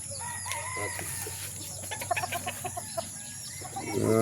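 A rooster crows near the start, then chickens cluck in short repeated bursts over a steady background hum, fairly faint and moderately close.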